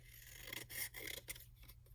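Paper being trimmed from a handmade back-to-school chalkboard card, heard as soft, close rasping and scraping strokes in short bursts, quiet and with no talking.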